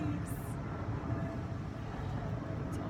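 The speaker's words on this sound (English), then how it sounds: "Sorry about the plane." An airplane passes overhead outdoors, a steady broadband roar, moderately faint and continuous throughout, with a short high chirp near the start.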